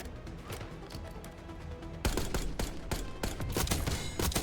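Rapid automatic gunfire in a video game arena shooter, with bursts of sharp shots that get louder and denser halfway through, loud and continuous with no talking.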